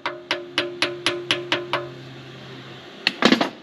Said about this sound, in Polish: teraz sobie tu młotkiem klupniemy